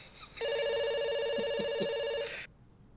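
A telephone rings in the video game Dr. Langeskov, The Tiger, and The Terribly Cursed Emerald, one sustained electronic bell tone of about two seconds that stops abruptly, with a few soft knocks beneath it.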